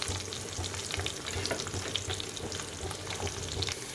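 Chana dal, dried red chilies and curry leaves frying in hot oil for a tempering, giving a dense, steady crackling sizzle close up with light stirring underneath.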